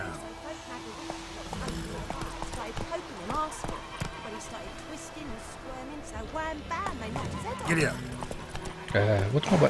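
Rhythmic horse hoofbeats clip-clop steadily throughout in The Witcher 3, with game sounds and a voice talking over them, growing busier toward the end.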